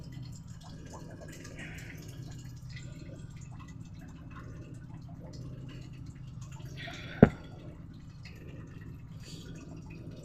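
Tap water left dripping overnight in a cold home, faint soft drips over a steady low background hum, with one sharper louder drop near the end.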